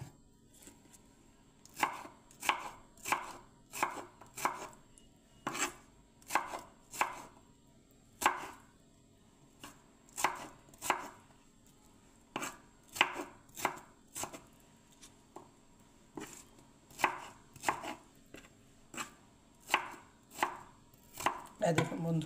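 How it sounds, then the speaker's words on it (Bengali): Knife chopping radish on a cutting board, a steady series of crisp, close, evenly spaced chops in bursts over a quiet background. "মূলোটা কাটছি এবারে"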